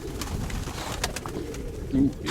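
Soft dove cooing in short low hoots against steady background noise, with a louder coo near the end.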